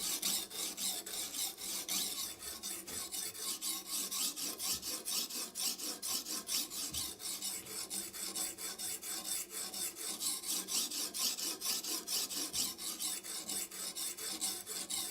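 Knife blade rubbed on a coarse grit sharpening stone wetted with liquid, a continuous close rasping scrape in fast even back-and-forth strokes, steady for the whole stretch.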